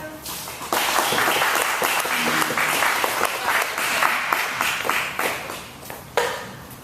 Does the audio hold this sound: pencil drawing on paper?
no